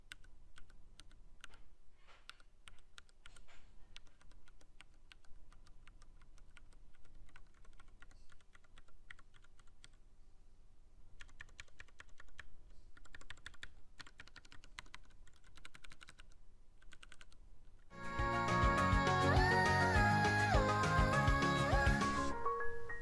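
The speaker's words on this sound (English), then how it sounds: "I made a sound test for the Cherry MX Browns just in case you guys wonder how it sounds." Typing on a Ducky One 2 Horizon TKL keyboard with Cherry MX Brown switches: a steady stream of close, crisp key clacks alone for most of the span, then masked by loud music in the last few seconds.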